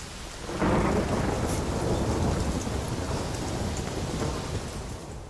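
A heavy thunderstorm in the game The Witcher 3: Wild Hunt, a loud rolling thunder rumble over steady pouring rain that fills the whole stretch without any talk.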